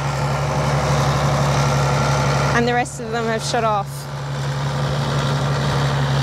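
A Ford 7810 tractor fitted with guidance and Isobus runs steadily at idle, a loud low engine drone throughout, with someone speaking briefly over it midway.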